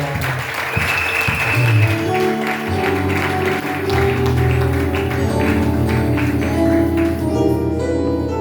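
A church congregation in Lubumbashi applauds, a dense, steady wash of many hands clapping together for several seconds, with faint music or voices underneath.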